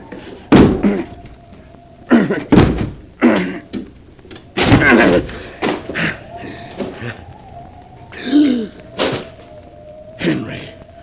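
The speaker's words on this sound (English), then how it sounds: "The door's locked. I'll have to break it down." A locked door battered down in an old-time radio drama: a run of heavy thuds and bangs at uneven intervals, loud and close, with splintering crashes and strained grunts between blows.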